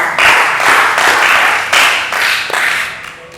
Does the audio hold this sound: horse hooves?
no